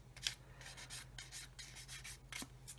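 A fingertip or tool gently rubs oozed glue off a seam on a 1/32 scale plastic model of a Humber armoured car, giving soft, close, repeated scratchy strokes in short bursts with brief pauses between them.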